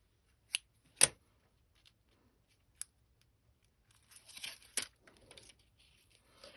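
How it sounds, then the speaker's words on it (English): Scissors snipping through ribbon in a quiet room, a few crisp separate cuts followed by soft rustling and handling of paper. "cut my ribbon"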